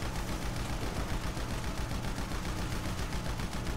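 Sustained automatic gunfire in GTA 5, rapid evenly spaced shots in a continuous burst lasting several seconds, moderately loud and unbroken, with no talking over it.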